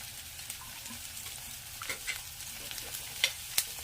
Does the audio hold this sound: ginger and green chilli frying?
yes